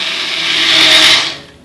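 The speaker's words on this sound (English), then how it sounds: "back onto the blender, probably for about another 20 seconds or so" A loud, harsh blender whir, blending butternut, rises, holds for about a second, then tapers off as the motor slows.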